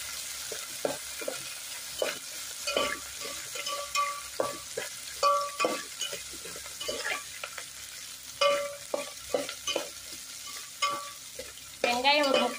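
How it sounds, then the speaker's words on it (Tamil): Onions sautéing in a pan with salt for mochai kulambu, stirred with repeated scraping spoon strokes against the metal over a gentle, steady sizzle. "இது நல்லா கிளக்கி எல்லாம் வதக்கிக்கலாம்."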